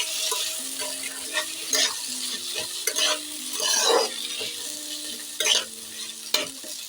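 Mixed fruit chutney with black grapes frying on a low flame, a soft continuous sizzle broken by repeated scraping stirs of a utensil against the pan, close and steady.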